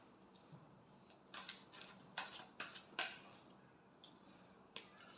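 Tarot cards are shuffled in a series of quick, crisp riffling bursts, each with a soft papery slap, fairly close and quiet, with short pauses between them.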